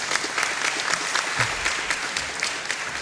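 An audience applauds hackathon winners at an award ceremony, a dense, even wash of clapping filling the whole stretch with no talk over it.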